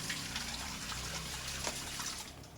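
Water pours steadily from a tap as a cooking pot is rinsed after cleaning meat, a continuous close splashing rush with no talk.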